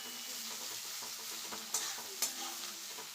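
Vegetables sizzle and fry in a pan with sugar, a steady hiss under a spatula stirring and scraping, with two sharper clatters of utensil on pan near the middle; no one speaks.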